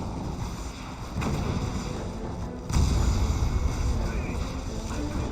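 A multi-gun turret fires away at a refinery in a Red Alert 3 match, heavy booming bursts and rumbling impacts with a sharp louder hit midway, under game noise and a commentator's voice.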